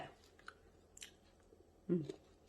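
Someone chews microwave-steamed sticky rice close to the mic, making soft, faint bites and squishy chewing sounds with a brief murmur of voice.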